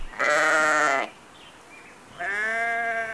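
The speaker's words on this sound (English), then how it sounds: "Sheep." Two loud, close sheep bleats, each about a second long with a quavering tone, separated by a short quiet gap.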